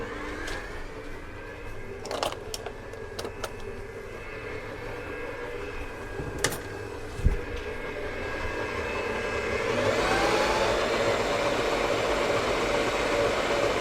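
An electric mixer whirs through cake batter for an old-fashioned school sprinkle cake, a steady hum with scattered clicks, swelling louder and brighter toward the end.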